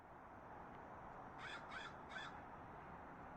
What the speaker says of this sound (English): Sounds more like a crow.